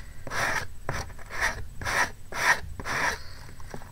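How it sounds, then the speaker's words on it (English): Rhythmic raspy scraping of a sanding block on wood, about six even strokes in a row, close and moderately loud. "you just pulling your sanding block in a downward motion"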